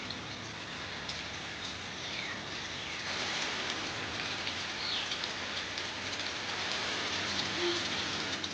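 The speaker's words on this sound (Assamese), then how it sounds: "আৰু বৰষুণ একদম এৰাই নাই।" Rain falls steadily outside a house overlooking a field, a soft continuous hiss of drops on surfaces at a fairly quiet level, growing slightly heavier partway through, with no voices.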